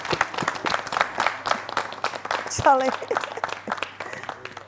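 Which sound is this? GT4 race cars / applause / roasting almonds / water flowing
applause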